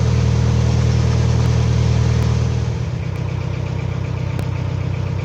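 A narrowboat's engine runs while cruising on a canal, a steady close thrumming with a low, even rhythm that eases slightly partway through, with no talking.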